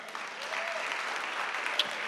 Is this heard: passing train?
no